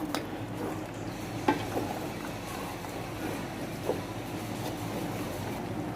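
A mango mixture for a sweet-sour-spicy mango leather is stirred in a pan over medium heat, with a low continuous bubbling rumble and a few soft scrapes of a spoon against the pan; no voices.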